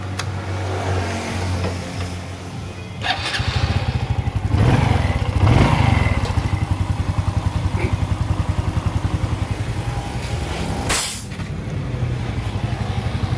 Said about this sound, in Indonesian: dan sekarang kita hidupin motornya